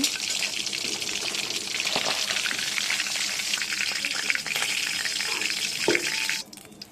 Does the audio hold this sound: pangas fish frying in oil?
yes